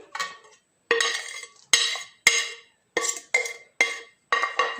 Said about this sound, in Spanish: Ya que tengo todas mis hierbas, las voy a integrar aquí en la carne.